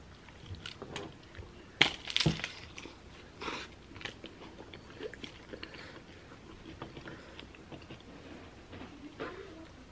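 Close, quiet chewing and crunchy bites of spicy noodles and Taco Bell food, an irregular run of wet mouth sounds and sharp bite clicks.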